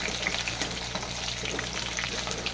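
New potatoes frying in a pan for a country-chicken curry, giving a steady, close, continuous sizzle and crackle with small pops scattered throughout and no talking.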